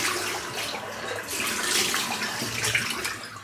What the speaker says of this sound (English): Just going to rinse my face off now.